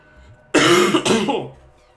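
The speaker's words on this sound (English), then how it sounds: "sorry if I'm coughing a lot because, like I said, I'm still sick" One person gives a short, harsh cough followed immediately by a throaty clearing, close to the microphone, lasting about a second against an otherwise quiet background.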